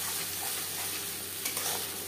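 Mustard and peanut paste sizzles and spits steadily in hot oil in a frying pan, a close, continuous frying hiss with light stirring, no voices.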